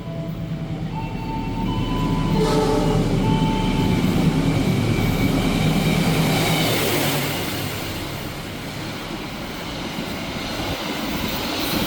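The KA Gumarang economy new generation passenger train runs along the track, a steady rumbling roar with rail noise that swells and eases slightly, heard from on board and alone.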